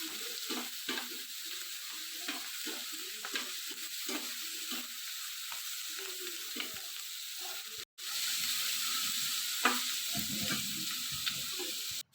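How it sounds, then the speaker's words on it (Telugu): Curry leaves and sliced onions stir-fry in hot oil for a capsicum egg curry, a steady close sizzle punctuated by repeated scraping stirs of a spoon against the pan, briefly cutting out before the frying resumes louder. "ఆ కరివేపాకు కూడా వేసేసుకొని కొంచెం అటు ఇటు కలుపుకోవాలన్నమాట"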